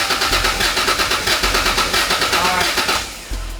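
Toyota Supra MK4 engine cranking on a start attempt with a spark plug out and no spark, a loud rhythmic starter churn with even pulses that pauses briefly and resumes, close by.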